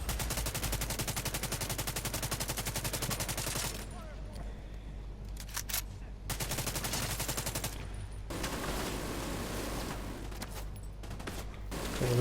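Assault rifle fire in a video game rattles in rapid sustained bursts, loud and close, with brief pauses between volleys and a voice talking over parts of it.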